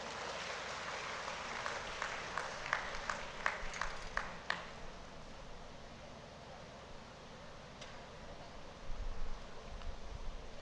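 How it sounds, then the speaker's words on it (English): An audience at a college of law event applauds the players, a brief burst of clapping that fades after a few seconds into quiet room tone. "I think we must give a round of applause for all of the players."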